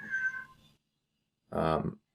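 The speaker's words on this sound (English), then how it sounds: "That's my cat meowing to come in my office." A house cat meows twice to be let into a home office, a short cry followed after a pause by a louder, longer meow close to the microphone.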